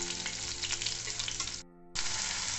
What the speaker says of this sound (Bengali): কড়াইয়ের মাঝখানটা ফাঁকা করে পেঁয়াজ কুচিগুলো এর মধ্যে আমি দিয়ে দেবো